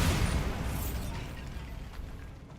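Bombarda spell blast in the video game Hogwarts Legacy: one loud booming explosion at the start, then a rumbling, crumbling decay that fades slowly over the next two seconds with no talk.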